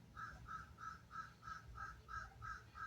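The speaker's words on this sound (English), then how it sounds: "Now you hear the crows and that." Crows caw outdoors in a regular series of about ten evenly spaced, harsh calls, moderately distant and faint, with no talk over them.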